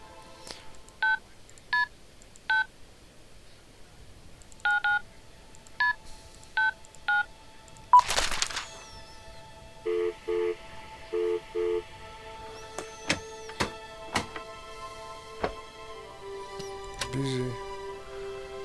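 In the video game Syberia, a telephone is dialed with a run of short beeping tones in several bursts, followed by a click and then a pulsing busy signal, with faint speech in the background.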